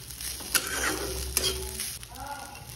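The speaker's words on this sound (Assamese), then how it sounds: "এইবাৰ ভাতখিনি ভাজি ল'ম" Rice fried with cumin, turmeric and chilli powder in a pan, giving a steady close sizzle with a few clinks and scrapes of stirring, no talk.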